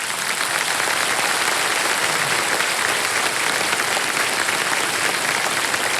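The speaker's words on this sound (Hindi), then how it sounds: "एक बार ताली बज जाए इनके लिए" Loud, steady applause from a large television quiz show studio audience, filling the whole stretch without a break.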